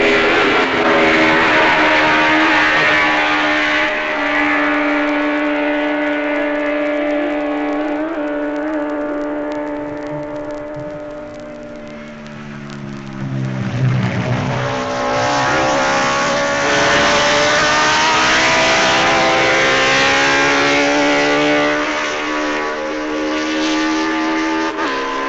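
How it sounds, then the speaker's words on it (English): Racing motorcycles at the Isle of Man TT roar past in a long, loud engine wail, pitch rising and falling as the machines approach and pass, with a second bike close behind. "Redman and Hailwood, who started together, had a terrific scrap for the lead"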